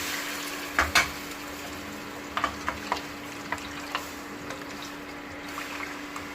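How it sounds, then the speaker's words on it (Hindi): Kadhi is tempered in a pan on the stove, with soft, quiet sizzling and scattered sharp crackles and pops over a low, steady hum. "ये छोंक दी है बिटिया ने कढ़ी"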